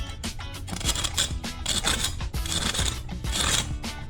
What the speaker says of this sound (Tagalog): Sound test lang natin siya if talagang crispy.